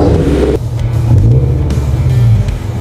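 A 2014 Toyota 86 on coilovers revs close by, a loud, deep engine rumble that rises in pitch and falls again over a few seconds, with no voices.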